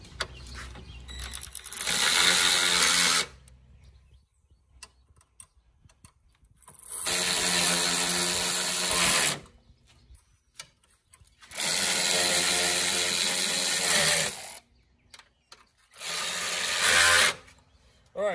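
Power tool driving 10 mm bolts, coarse and fine threaded, into the grille of a 2016 Ram 1500 pickup; four loud, steady whirring bursts of a few seconds each, separated by quiet pauses.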